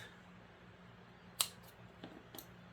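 Scissors snip off a thread end on a handmade leather bag: one crisp, close cut followed by a couple of fainter clicks in a quiet room.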